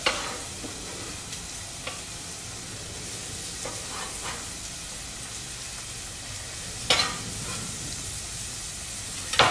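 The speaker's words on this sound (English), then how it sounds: "whenever you're sweating onions, in order to stop them burning too quickly, add a little touch of salt" Onions sweat in olive oil in a pan for a risotto, giving a steady, even sizzle with occasional louder stirring scrapes and clatters.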